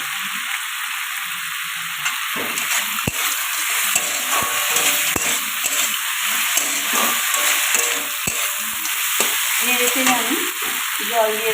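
Masala for a fish curry sizzles and fries steadily in a pan, with intermittent scraping and clicking strokes as it is stirred and sautéed, continuous and close with no talk.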